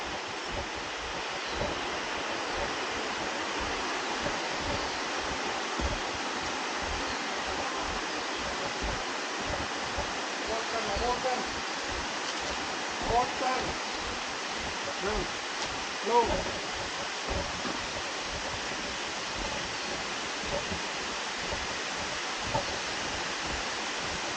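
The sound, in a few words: Abbey Falls waterfall in Coorg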